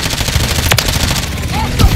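Dense, continuous gunfire rattles through a video game firefight, loud and close, with a faint voice underneath.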